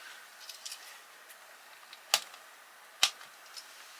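A knife cuts through a First Strike Ration pepperoni bread, giving two crisp, sharp close-up cracks about a second apart against a quiet background with faint rustling.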